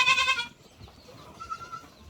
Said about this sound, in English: Is a very good goat.